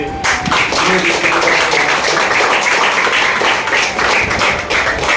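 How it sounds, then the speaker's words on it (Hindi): Applause from a room full of people at a direct-selling distributor training session, dense sustained clapping that stays loud and close for the whole stretch, with faint voices mixed in. "तो जोरदार तालियां हमारे"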